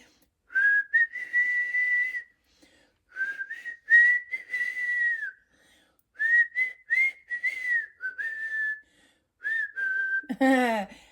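A melodic whistled tune in repeated phrases with short pauses, clear and fairly close, ending in a brief burst of other sound.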